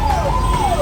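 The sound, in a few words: ambulance and police vehicle sirens passing in Delhi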